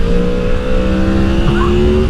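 A Yamaha MT-10 motorcycle engine pulls hard in second gear at steady high revs, its tone climbing slowly under a constant roar, close and loud.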